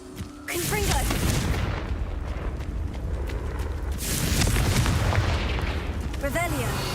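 A Confringo fire spell blasts in a Harry Potter video game, a loud booming burst that swells and rolls on for several seconds with crackling debris, followed by a second blast, amid game sound effects.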